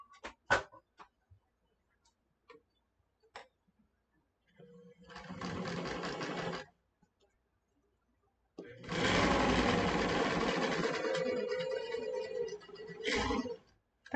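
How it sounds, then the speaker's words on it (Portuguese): A sewing machine stitches a seam on a fabric arm shawl in two runs, a short whirring burst and then a longer steady one, with scattered clicks of handling around them. "E vai passar uma costura aqui."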